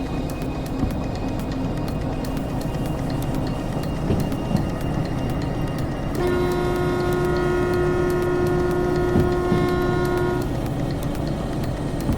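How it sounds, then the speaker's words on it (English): A train runs steadily in the Derail Valley railway game with continuous rumbling rail noise, and a sustained horn-like tone sounds for several seconds midway before cutting off. "I need to pull parts of the train up here to the rail yard."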